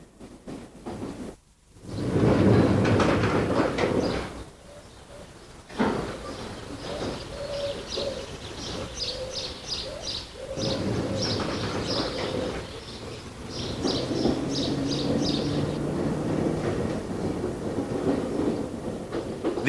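A London tube train runs along a single-track branch line near North Weald, with a rumbling, rolling passage that rises and falls over about twenty seconds while pigeons coo nearby.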